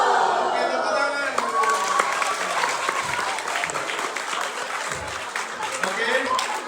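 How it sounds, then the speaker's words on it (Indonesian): A lecture audience claps together in a continuous, fairly even burst of applause with some cheering, while a voice carries on over it. "Oke, tepuk tangan."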